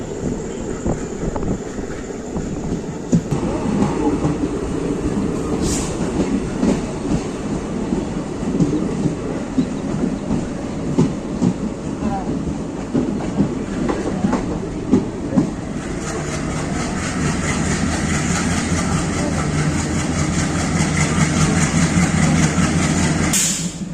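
A special fare express train rumbles along steadily nearby in Tamil Nadu, its engine droning with rhythmic rattling and clacking of wheels over the tracks throughout.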